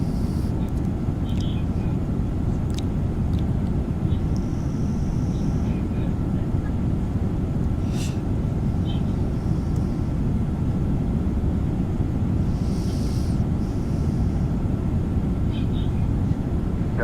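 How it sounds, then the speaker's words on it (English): Steady broadband cabin roar inside a small aircraft on descent during a medical transport flight, constant and loud throughout with faint speech-like traces over it. "the airplane's making a descent"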